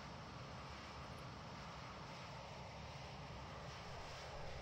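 Steady, unbroken drone of Boeing 737-800 jet engines running in the X-Plane 11 flight simulator, faint and constant throughout with no talk.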